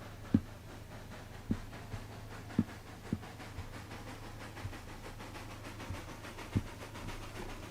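Lima steam locomotive in a railroad video game rolling steadily through wilderness, with a quiet continuous chuffing hum and a few sharp clanks from the cars at irregular intervals.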